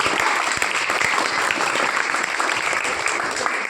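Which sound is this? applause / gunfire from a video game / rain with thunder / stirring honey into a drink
applause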